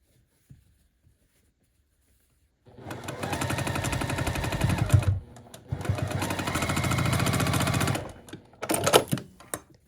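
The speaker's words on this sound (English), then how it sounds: "And then I will sew the bottom two together" A sewing machine stitches the seams of a foundation paper pieced flying geese quilt block, running in two long steady bursts of rapid needle rattle with a short third burst after a pause, close and alone.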